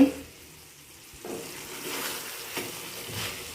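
Chicken is sautéed in oil in a pan. After a quiet start, a moderate, steady sizzle rises and continues, with a couple of soft stirring knocks.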